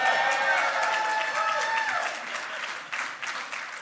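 Audience applause, a dense wash of clapping from a crowd that starts strong with some voices mixed in, then thins and tapers off toward the end.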